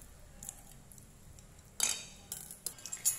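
Drained glass noodles being cut in a bowl: faint scraping, then a few sharp, close metallic snips and clinks in the last half.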